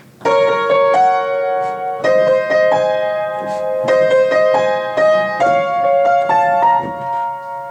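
A piano plays a right-hand melody of bright, sustained chords and single notes, played alone at a steady moderate pace, close and clear.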